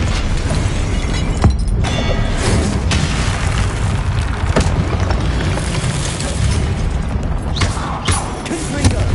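Repeated Confringo fire-blast spell explosions in Hogwarts Legacy, a dense loud stretch of booming bursts and crackling impacts layered over constant combat noise, with several sharp hits standing out.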